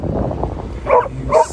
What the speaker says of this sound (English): With the dog barking, it's certainly not sleeping.